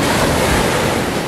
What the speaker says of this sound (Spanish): Y aquí vemos cómo el mar erosiona la arena que hemos cavado